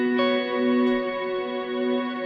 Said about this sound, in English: Many reverb pedals nowadays, when you hold the foot switch, it can freeze the reverb and then you can create soundscape with that.